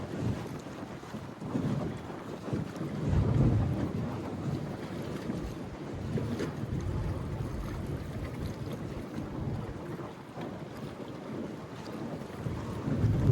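Strong wind buffets the microphone at sea during fishing, a steady gusty roar with the wash of water, surging and easing over the whole stretch.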